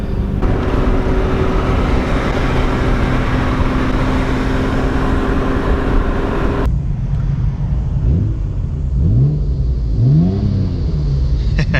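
A Nissan Skyline R33 engine roars loudly and steadily, then cuts to a lower rumble while a couple of quick rising revs pass nearby.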